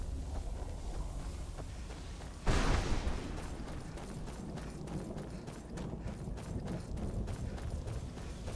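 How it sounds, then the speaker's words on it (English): Horse hooves clip-clop in a fantasy video game, a steady run of close, crisp hoofbeats over a busy ambient bed, broken briefly by a louder broadband thump partway through. "Such a good horse."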